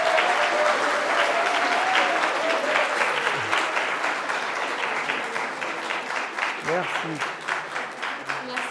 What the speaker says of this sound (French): j'aimerais vraiment un tonnerre d'applaudissements